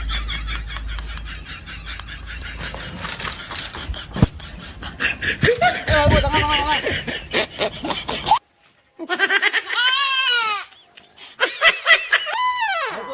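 A goat bleats in short wavering cries near the end, following a stretch of lively human chatter and laughter.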